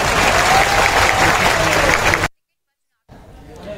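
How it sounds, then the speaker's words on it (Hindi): Loud crowd applause at an outdoor political election rally, dense steady clapping with a few shouts for about two seconds, then cutting off abruptly into near silence before faint background noise returns. "अब ताली कमलनाथ जी के लिए बजाओ, उससे पहले ऐसे चुनाव आयोग के लिए ताली बजाओ"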